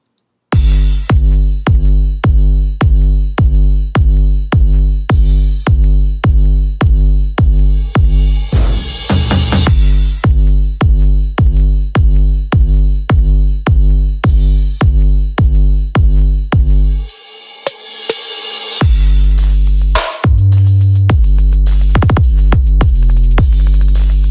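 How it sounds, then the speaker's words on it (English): A punchy electronic beat with deep sub bass pulses in a steady, loud loop, briefly dropping out near the end before the pattern kicks back in. "the first thing we're going to have a look at here is my drums and my sub bass."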